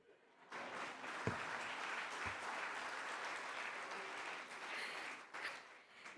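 An audience at a felicitation ceremony applauds in a sustained round of clapping that starts abruptly, holds steady for several seconds and tapers slightly near the end, heard fairly faint and at a distance.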